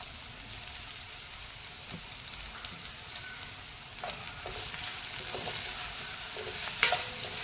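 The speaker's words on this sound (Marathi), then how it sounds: "परत 2 मिनिटं परतून घेणार आहे" Cluster beans and potatoes sautéing in a pan, a continuous soft sizzle with scattered scraping clicks from stirring and a sharper clink near the end, no voices.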